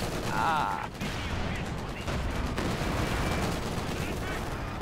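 MG42 machine gun fire in the Company of Heroes 2 video game, with rapid bursts of gunfire and battle noise at moderate volume and a brief voice at the start.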